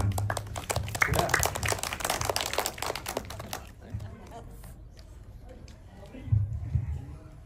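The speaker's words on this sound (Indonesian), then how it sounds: "Terima kasih, berikan tepuk tangan." An audience at a film screening claps in a dense burst of applause that dies away after a few seconds, followed by quieter room noise and a brief voice.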